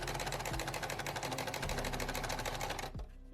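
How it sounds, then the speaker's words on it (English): A sewing machine tacks down a folded pleat on fabric for a pair of shorts, its needle chattering in a fast, steady run that stops abruptly near the end, close and loud with no talking. "then tack it down with my sewing machine"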